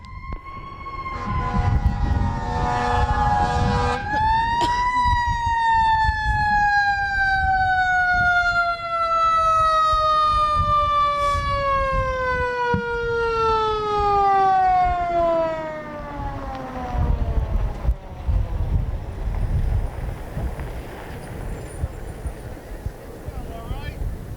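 An ambulance siren wails, rising sharply, then slowly falls in pitch as it fades away, with traffic rumble underneath, at a mock crash drill.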